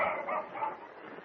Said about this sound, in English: Gosh, listen to those huskies bark, Mr. Kent.